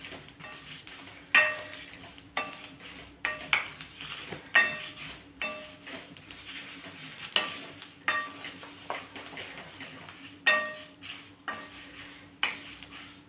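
Chillies and cumin dry-roasting in a pan for a Khandeshi karale chutney, a low steady sizzle broken by repeated scraping stirs and light clinks of a spoon against the metal, close and with no voices.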